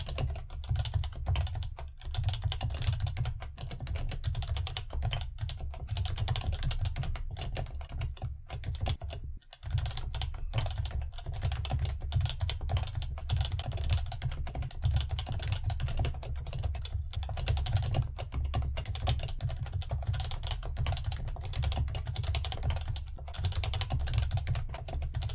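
Steady computer keyboard typing while code is written, continuous clicking keystrokes at close range with brief pauses, no voices.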